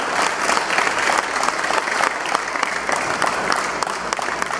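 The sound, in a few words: crowd applause for boxer's father at boxing event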